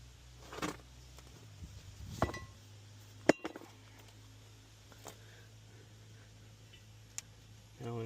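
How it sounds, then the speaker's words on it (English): A brake rotor being removed from the wheel hub of an 08-10 Chevy 2500HD Duramax, giving a few sharp metallic clinks and taps spread over quiet shop background, with one louder clank near the middle. "Remove the rotor."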